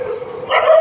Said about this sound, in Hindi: जो कुत्ते भौंक रहे, क्यों भौंक रहे?